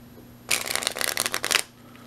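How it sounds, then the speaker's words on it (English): A deck of playing cards being shuffled: a quick riffling burst of crisp flutters lasting about a second, close and clear against a quiet room. "give it a shuffle."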